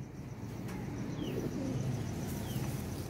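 Young pigeons coo softly in low repeated throaty calls, with a couple of faint chirps over a quiet background hum.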